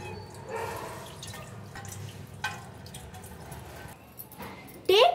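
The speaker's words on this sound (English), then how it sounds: "filter the water." Water drips and trickles as it is filtered off soaked moong dal, with scattered splashes and small clinks, then a brief louder pour at the end.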